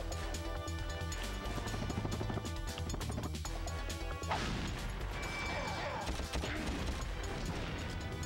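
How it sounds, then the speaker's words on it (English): A jumping wrench smash from the Ratchet & Clank PS2 demo, heard as dense, loud crashing impacts and clanks layered over continuous game music and effects. "Oh, I have a jumping wrench smash"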